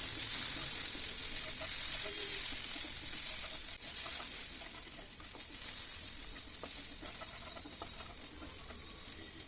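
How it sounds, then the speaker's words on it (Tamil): Raw banana and potato pieces frying in a pan with salt and turmeric, giving a steady close sizzle and crackle with occasional stirring scrapes, gradually softening over several seconds. "இப்போ நாம் நல்லா ஃப்ரை பண்ணிக்கிட்டே இருக்கணும்"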